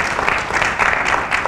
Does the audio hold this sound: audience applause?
yes